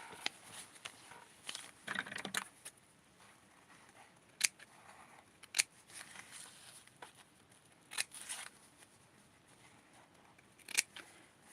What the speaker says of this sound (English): I'm just going to cut it right off of